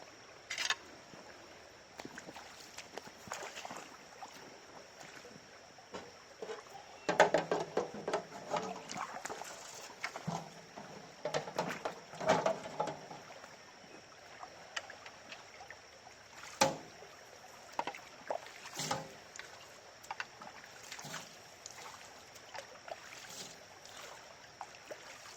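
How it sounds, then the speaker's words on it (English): A scoop of water poured and splashed through a sluice to rinse it out, giving irregular bursts of sloshing and trickling water against a steady outdoor background hiss, with no talking. "I guess I gotta use my scoop to rinse the sluice out."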